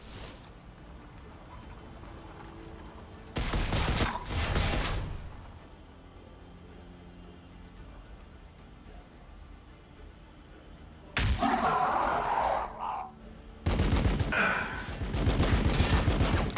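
Bursts of gunfire in the Warhammer 40k BattleSector video game, loud rattling volleys in several separate blocks with quieter battle ambience between them and no talk.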